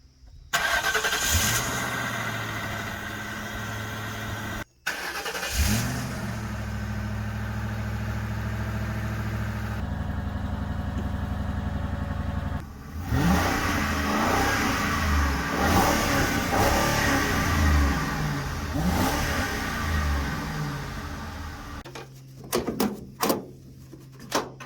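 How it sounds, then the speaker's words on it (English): An old third-generation Chevy Lumina NASCAR stock car engine cranks and catches on a cold start, then idles loudly and roughly, with repeated throttle blips and revs swelling over a long stretch; a door sounds near the end. "let me show you guys what a cold start sounds like with my current, quote, race car."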